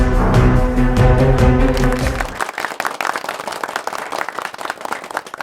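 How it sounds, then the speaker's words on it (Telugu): A group of people clapping in a TV serial scene, dense applause taking over after music fades, continuing steadily to the end. "అందరూ చప్పట్లు కొడుతున్నారు."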